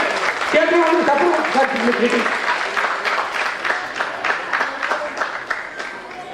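Audience applause at an anniversary celebration held in an auditorium, a loud sustained wash of many hands clapping that fills the hall, with a voice briefly heard near the start.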